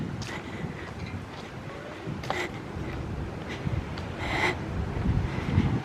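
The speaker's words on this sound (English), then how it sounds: "And it's windy." Gusty wind buffeting the microphone outdoors on a cool day, a continuous rough low rush with a few louder gusts, with faint voices in the background.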